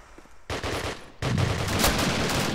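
Machine gun fire in a video game, a short burst that cuts in after a quiet moment, pauses briefly, then returns as a loud, sustained rattling stream.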